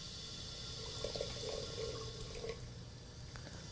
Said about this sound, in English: end of the tea ceremony, I will add fresh water.